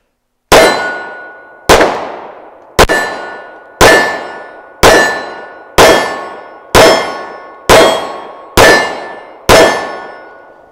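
A TISAS 1911 Stingray 9mm pistol fires 115-grain full metal jacket rounds at a range, ten sharp, evenly spaced shots, each followed by a ringing decay, loud and alone.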